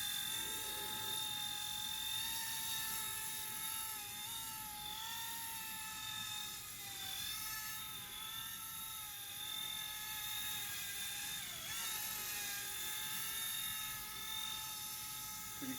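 A Vevor RC gyro-stabilized helicopter hovers nearby with a constant high-pitched electric motor whine and rotor buzz, steady throughout with slight pitch wobbles as it tilts back and forth.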